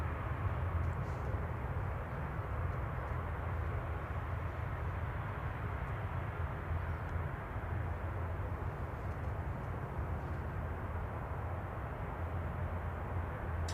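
A British Airways Airbus A321neo arriving at Manchester Airport from Heathrow at night, a steady, fairly faint distant jet rumble with a low droning hum that holds constant throughout, with no speech.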